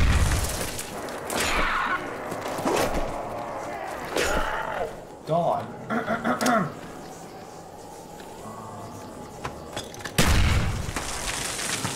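Booming blasts and scattered gunfire sound during Call of Duty Black Ops, a heavy explosion landing near the start and another near the end, with voices talking across the middle.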